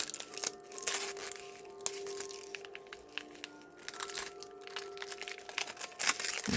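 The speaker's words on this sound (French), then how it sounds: "Je vais peut-être bouger le plastique pour que vous le voyez un peu mieux." Sticky plastic wrapping shifted around on a table, producing bursts of crisp crinkling and crackling over a steady faint hum, with brief pauses between handlings.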